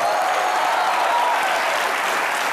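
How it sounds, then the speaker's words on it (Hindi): Loud studio audience applause on an Indian comedy talk show, steady dense clapping filling the whole short stretch with no voices over it. "इसके लिए जोरदार तालियां।"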